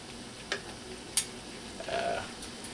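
Steak fries in a pan for a surf and turf sandwich, a soft steady sizzle with a couple of sharp clinks and a brief louder spit of fat near the middle.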